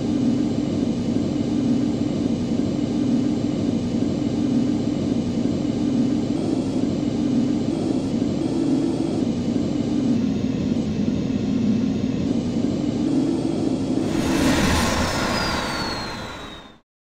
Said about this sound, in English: use your retro thrusters to touch down softly